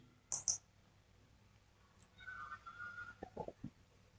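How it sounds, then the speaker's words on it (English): Two quick mouse clicks close together on the Create button of a Microsoft Fabric Dataflow Gen2 data load, faint and alone, followed by soft desk and room noises. "if everything is fine, click on create"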